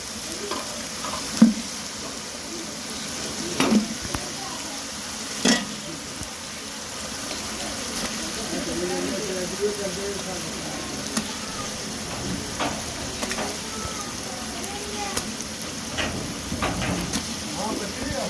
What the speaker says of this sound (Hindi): हम इसकी अच्छे से बुनाई करेंगे 15 मिनट।